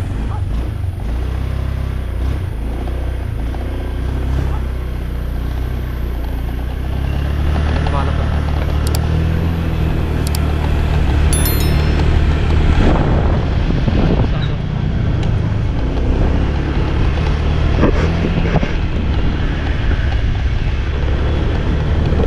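Honda Click 125i scooter engine revving steadily, a loud continuous low drone with rising and falling pitch, under and alongside voices talking nearby.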